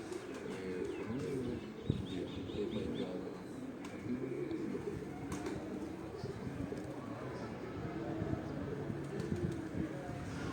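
A pigeon coos softly and repeatedly close by, its low rolling calls running under faint chirps and outdoor background noise from a rooftop pigeon-keeping setting, with a voice heard lightly.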